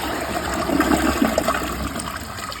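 A Niagara Stealth toilet flushes close by, a steady rush of water running for a couple of seconds and swelling briefly in the middle before settling.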